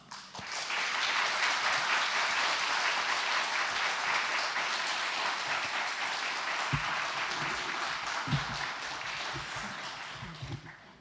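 Sustained applause from a church congregation, a steady wash of many hands clapping for about ten seconds, with a few low thumps near the end.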